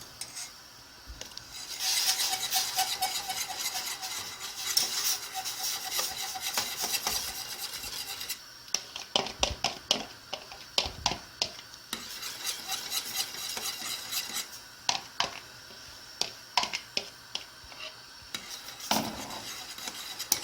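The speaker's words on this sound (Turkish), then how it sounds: "Şimdi bu yaptığımız karışımı yavaş yavaş dökeceğiz ve çırpıcıyla da sürekli çırpacağız." A whisk stirs a mixture steadily into boiling water for Arabaşı soup, a continuous close scraping and swishing against the pot with rhythmic clinks in the later part.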